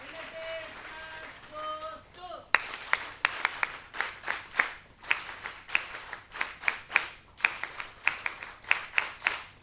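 An audience at a university appreciation event breaks into clapping after a voice finishes speaking, with sharp, uneven bursts of hand claps that pulse and swell repeatedly, fairly close and lively.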